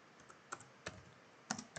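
Quick, light keystrokes on a computer keyboard while coding HTML, a few scattered clicks in a short burst, close and fairly quiet with no voice.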